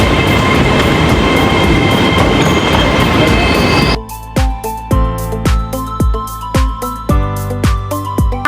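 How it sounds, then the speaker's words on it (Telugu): A train at a UK station on a day trip to Scotland: a rushing rumble gives way to a rhythmic series of loud wheel clacks over rail joints as carriages pass close by. "మా ట్రైన్ కూడా వచ్చి నించేసింది, కనిపిస్తుందా?"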